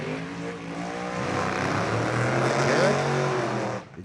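An injected big block Chevrolet altered drag race car at a drag racing event roars past, its harsh engine note swelling loudly then cutting off abruptly near the end.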